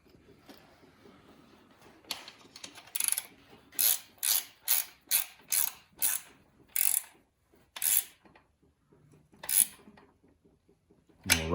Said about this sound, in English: Don't forget to tighten the top bolt up for your shock.